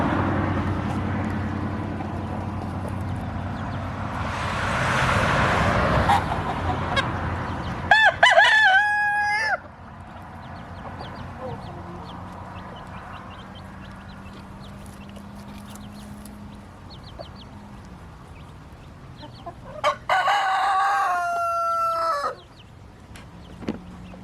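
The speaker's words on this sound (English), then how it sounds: "That's the rooster." A small Silkie rooster crows twice on a farm, loud strained calls standing out over steady low clucking and farmyard background noise.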